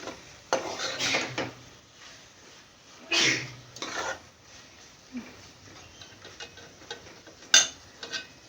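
Chicken being stir-fried with a prepared masala in a pot for a village-style biryani: intermittent scraping and clanking of a utensil against the pot, in short bursts with quiet gaps between, close and fairly loud.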